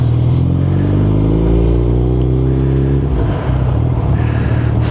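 A Suzuki Hayabusa motorcycle engine rumbles loudly up close, its pitch rising through a rev before settling into a rougher idle.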